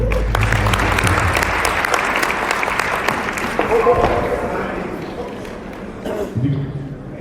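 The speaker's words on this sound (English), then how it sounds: "A round of applause for you." At a professional convention plenary session, an audience gives a warm round of applause, dense and steady at first, then gradually tapering, with murmured voices underneath and a few low thumps.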